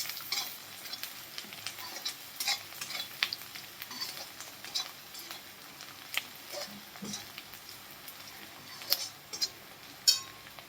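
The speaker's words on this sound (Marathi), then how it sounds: "लसूण पण या कांद्याबरोबर आपल्याला व्यवस्थित भाजून घ्यायचंय" Crushed garlic and chopped onion sauté in a pan with a soft, continuous sizzle, broken by frequent sharp clinks and scrapes of a spatula stirring against the metal, a few louder knocks near the end.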